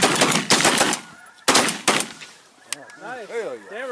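Shotgun shots during a dry field duck hunt, several loud close blasts in quick succession early on, followed by honking geese or ducks calling overhead, with hunters' voices mixed in.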